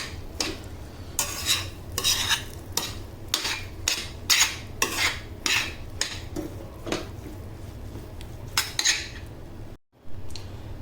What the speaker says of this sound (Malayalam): ഒരു അഞ്ച് മിനിറ്റ് വയറ്റി കൊണ്ടേയിരിക്കണം